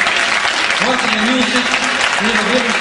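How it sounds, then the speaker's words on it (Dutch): Audience applause for the jury at a marching band contest in Schiedam, steady clapping throughout while an amplified voice talks and a sustained tonal sound rises over it midway. "dat het publiek even een applaus heeft voor de jury voor vanochtend"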